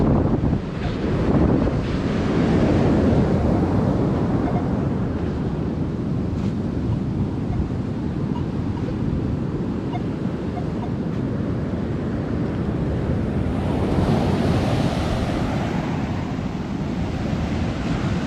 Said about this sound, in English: Good seeing the ocean again.